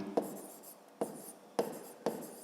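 Writing on paper in a notebook during a 5th-grade math exercise: four sharp pen taps, each followed by brief scratchy strokes, quiet and close, with no voices.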